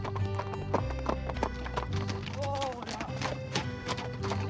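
Horse hooves clip-clop in a steady walking rhythm at close range, with a brief whinny partway through.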